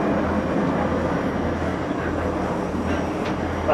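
Red Arrows jets of the synchro pair roar past in a flypast at an aerobatic display, a loud broadband engine rush that holds steady through the short stretch.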